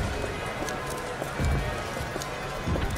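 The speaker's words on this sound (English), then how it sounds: "I hear footsteps" Footsteps clop along a street in the game BioShock Infinite, a quick run of hard, hoof-like steps under game ambience, with a voice speaking faintly.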